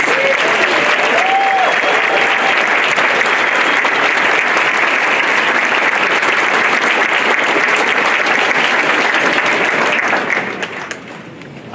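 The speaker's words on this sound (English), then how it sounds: "We have one final round of applause for all of the winners." A large ceremony crowd at the 2017 Laurel Awards gives the winners a long, dense round of applause that stays loud and even for about ten seconds, then quickly tapers off at the end.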